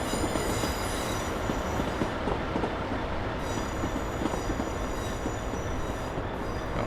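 A Class 156 diesel train departs in a train simulator game, its rolling rumble and rail noise holding steady and fairly quiet throughout, with a faint wheel squeal and no talking.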